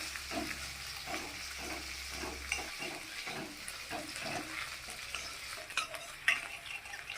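Bay leaf, cumin and onion frying in hot oil while a utensil stirs through the pan, soft sizzling with repeated scraping strokes and a few light clinks, fairly quiet and close.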